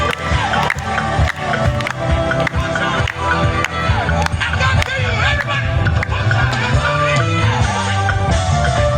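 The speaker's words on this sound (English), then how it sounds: "Can we applaud this, please?" Open-air university campaign rally crowd applauding and cheering loudly and continuously, a dense wall of clapping and voices with music mixed in throughout.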